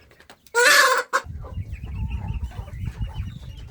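Chickens on a farm in the Dominican Republic give a loud, close squawk, then settle into a scattered stream of soft clucks and murmurs from the flock.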